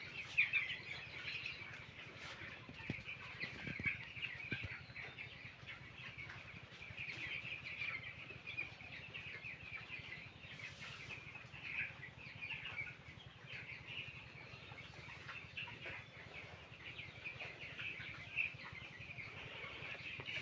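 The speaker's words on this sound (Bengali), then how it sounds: "মুরগির বাচ্চার বয়স 15 দিন।" Fifteen-day-old chicks crowd a poultry coop with an automatic water line, keeping up a constant, fairly faint high peeping chorus over a low steady hum.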